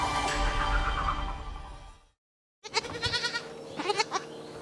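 Goats on a goat farm bleating several times in quick succession, close and clear after a short silence, with a burst of rustling noise before it.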